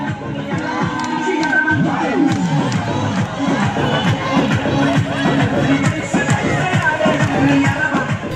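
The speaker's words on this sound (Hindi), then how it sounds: "ठुमके और शोर शराबे से भरा ये नजारा है" A large village crowd cheers and shouts at a dance celebration held at a house in Jharkhand, a dense, continuous roar of voices and calls running loud and steady throughout.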